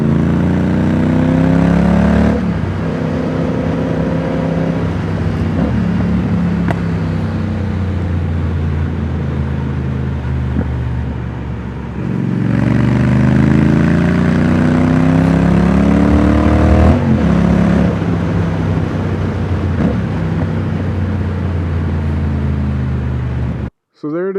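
Triumph Speed Twin motorcycle fitted with British Customs turnout exhaust pipes, a loud, steady twin-cylinder rumble that swells twice as the bike passes close, running continuously almost to the end.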